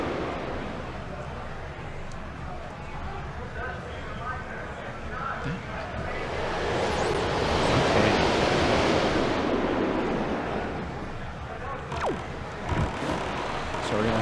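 Ocean waves while sailing in the video game The Legend of Zelda: Wind Waker, a continuous rushing wash of surf and wind that swells in the middle and stays steady throughout.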